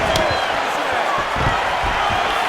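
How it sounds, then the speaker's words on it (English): A virtual arena crowd roars in a UFC 4 video game bout as a fighter lands a takedown, a loud, steady wash of cheering with a few thumps beneath. "nice pop there from the crowd as he finally gets the takedown"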